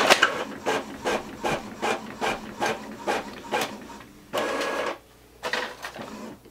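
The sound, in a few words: Epson EcoTank ET-2720 printer printing a test page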